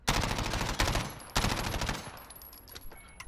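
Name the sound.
gunfire from a video game gun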